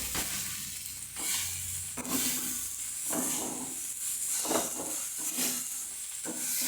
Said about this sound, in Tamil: இந்த சாதத்தை இதில் போட்டு நம்ம கிளறணும்